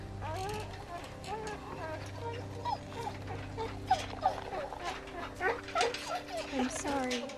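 A dog whimpers in the video game The Walking Dead: Season 2, thin wavering whines rising and falling through a steady, moderately loud layer of game ambience with low drones.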